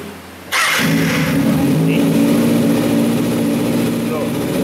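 A Kawasaki Ninja ZX-6R with 50,000 km, in a workshop for an oil service, cranks and fires into a loud, steady idle close by, settling into a constant engine drone.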